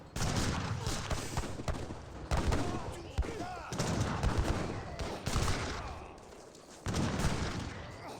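Heavy cannon volleys in an Age of Empires 3 battle, with repeated booming blasts and crackling gunfire in bursts across the stretch, set amid steady battle noise.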